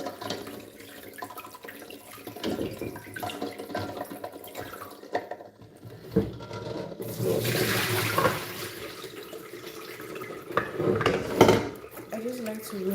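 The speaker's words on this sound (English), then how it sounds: "I just like to rinse off any dirt on the eggs before I bring them to a boil." Eggs being rinsed under a running kitchen tap before boiling, a steady close stream of water with occasional knocks of dishes, and a voice speaking over it.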